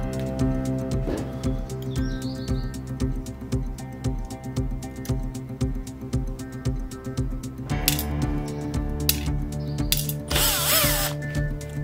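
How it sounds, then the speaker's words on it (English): A power drill whirs and ratchets while removing a drum drive wheel, its motor running steadily throughout with clicking pulses, a brief metallic clatter near the end and a loud burst of grinding around ten seconds. "Remove the drum drive wheel, and take out the small spacer."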